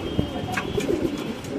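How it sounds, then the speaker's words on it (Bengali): A Mundian pigeon cooing close by, a few soft, low rolling coos in quick succession with no talk over them. "মাশাআল্লাহ কবুতরের ডাকটা একটু সামনে ইনশাআল্লাহ দেখাই দিলাম আপনাদের।"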